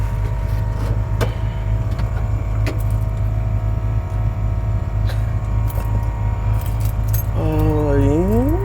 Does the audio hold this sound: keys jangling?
yes